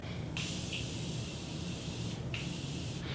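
Two sharp hissing bursts of Morphe makeup setting spray, one long and one shorter, released close by over a low steady background hum.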